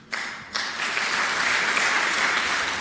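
An audience in a legislative chamber breaks into applause after a speech, a couple of early claps swelling quickly into sustained, even clapping.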